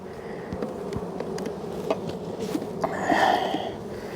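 Honey bees buzz around an open beehive, a close continuous hum with individual bees flaring louder as they pass, alongside faint handling knocks.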